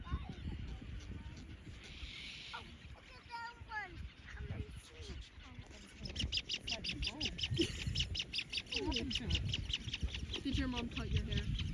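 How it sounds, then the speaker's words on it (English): Wild birds calling on a remote Australian island, with repeated chirps and quacking-like calls scattered throughout, growing busier and louder in the second half, under people talking nearby and low wind or water noise. "look at them birds"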